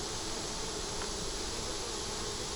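Honey bees at an open hive being checked for a queen that isn't laying right, a dense, even buzzing drone that holds steady throughout, with no voices.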